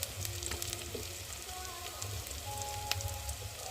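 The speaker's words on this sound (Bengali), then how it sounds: "তো দেখো পেঁয়াজটা আমি একটু ভেজে নেব" Onions sizzling in hot oil in a pan, with spices about to go in, while cooking a Bengali fish oil-jhal; a steady, fairly quiet crackle with scattered pops and no talking.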